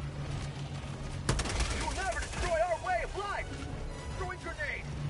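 Helldivers 2 battle: automatic gunfire crackles after a sharp opening blast, and a voice talks over it. Chirping, warbling tones are scattered through the shooting.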